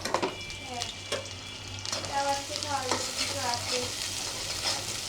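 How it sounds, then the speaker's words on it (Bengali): Dal stirs and fries in a pan, a steady close sizzle broken by scraping strokes of the spoon, while faint voices murmur in the background. "আর রান্না করব ডাল"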